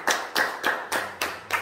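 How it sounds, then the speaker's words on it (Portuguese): A congregation in a Brazilian church service gives a round of applause, with several sharp bursts of clapping in quick succession, loud and close, with no talking over it. "Dá uma salva de palmas poderosa."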